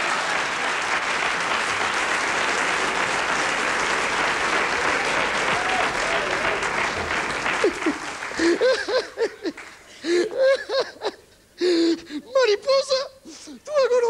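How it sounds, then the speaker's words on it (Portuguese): Theatre audience applauding during a Portuguese revue, a loud sustained burst of clapping that breaks off after about eight seconds, after which voices speak in short bursts. "Esta merece palmas."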